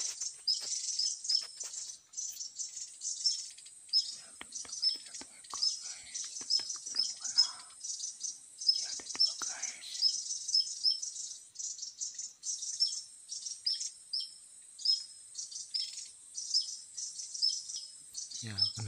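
A tesia bird calls outdoors during bird trapping with thin, high-pitched chirps, heard over a constant shrill insect-like drone. The sound holds at a moderate level for nearly twenty seconds.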